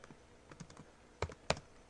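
Typing on a computer keyboard, a handful of light scattered key taps followed by two sharper, louder clicks, close and brief.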